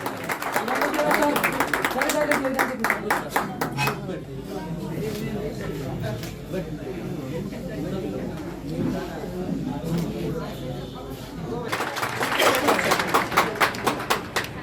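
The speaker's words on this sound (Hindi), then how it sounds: "जोरदार तालियां प्लीज।" Seminar audience bursts into loud applause at the start, fades under murmuring chatter, then claps again near the end, with a person speaking through the quieter middle.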